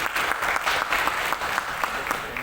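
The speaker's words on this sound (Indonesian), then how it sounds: "Tepuk tangan buat beliau." Steady applause from an audience at a regional government training session in Jakarta, continuous dense clapping with no pauses, fairly close and moderately loud throughout.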